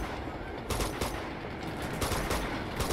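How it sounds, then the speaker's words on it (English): Gunfire in Uncharted 2: Among Thieves, a run of distant shots crackling in quick bursts over a steady, noisy game backdrop with no voices. "This is far shooting."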